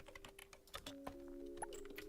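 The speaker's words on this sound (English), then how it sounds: "who's typing away now? It's 8 o'clock in the morning. Who's typing?" Quick, irregular keyboard clicks from an office worker typing in the game Startup Company patter faintly over a low steady tone, with no talk.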